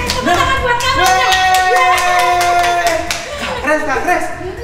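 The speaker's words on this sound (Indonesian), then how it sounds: "Tepuk tangan buat kamu Kak." Children clapping along in a Sunday school session, a steady rhythm of hand claps under singing and children's voices, loud and close, with bright tonal melody lines running through.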